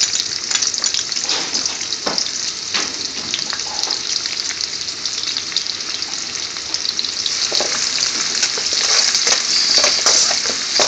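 Chopped garlic frying in hot vegetable oil in an Indian restaurant kitchen, a steady close, loud crackling sizzle that holds throughout with occasional sharper pops and light stirring scrapes.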